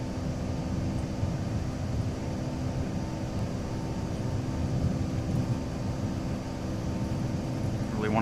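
Steady, loud airplane engine drone during a takeoff run in Microsoft Flight Simulator 2024, a constant broadband roar with a faint rising tone at the end.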